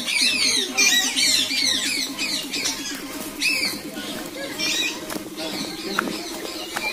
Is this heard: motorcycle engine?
no